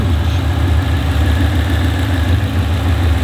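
Subaru STI engine idling in the engine bay, a steady low rumble with constant vibration throughout, loud and close with no talking.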